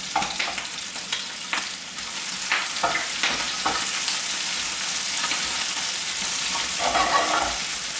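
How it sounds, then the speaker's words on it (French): Prawn shells and heads frying in a pan of very hot oil on full heat, a dense continuous crackling sizzle with a few sharp spatula scrapes early on, loud and close without speech. "Vous faites bien frire."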